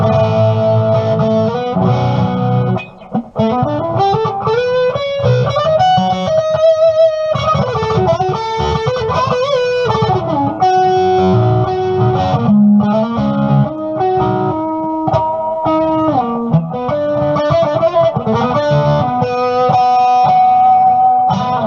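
A distorted electric guitar plays a continuous melodic line with bending notes and a thick, fuzzy tone, loud and alone without any voices.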